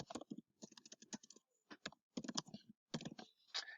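Quiet, close typing on a computer keyboard: bursts of rapid key clicks separated by brief pauses, with no voices.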